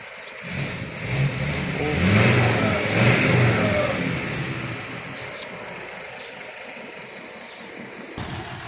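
A vehicle engine is revved in neutral, rising to a loud rumbling peak, then settling back toward a steadier idle.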